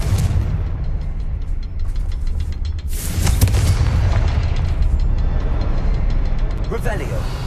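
Confringo fire spells explode in the Hogwarts Legacy video game, with heavy booming blasts rolling one after another in a loud, continuous barrage of game noise.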